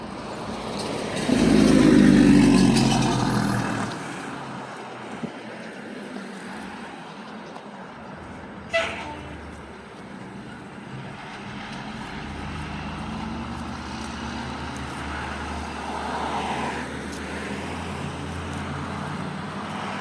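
Traffic flows along a congested road: a loud vehicle swells past early on, followed by a steady, distant roadway rumble, one sharp knock, and another faint pass building and fading later.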